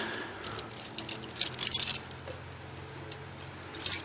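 A set of keys for a WILKR-lettered gate lock jangles close by in short metallic bursts, louder around the middle and again at the end, with no talking.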